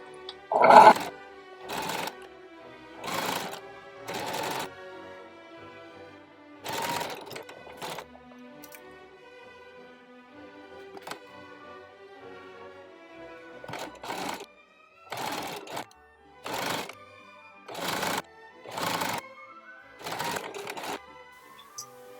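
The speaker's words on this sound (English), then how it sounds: "So now we're just going to sew on the gores with a little bit of ASMR." A sewing machine stitching skirt gores cut from a flannel shirt, running in repeated short bursts of rapid whirring with brief quiet pauses between each run, close and clear with no talking.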